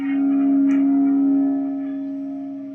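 An electric guitar played through a homemade distortion pedal rings out as a single sustained, buzzy clipped note, loud and close, slowly decaying with no talk.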